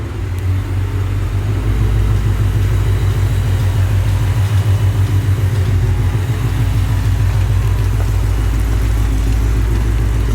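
A tuned, full-bolt-on Nissan Hades car engine idles steadily up close, a loud, deep rumble with a rapid even pulse and slight shakiness, running alone without any talk.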